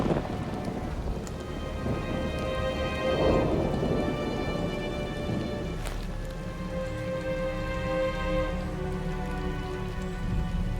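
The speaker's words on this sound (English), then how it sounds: "Man, this storm is bad." Steady heavy rain pours through a thunderstorm in the Nancy Drew mystery game Midnight in Salem, a dense loud hiss with rumbling thunder and a sharp crack near the middle, no voices.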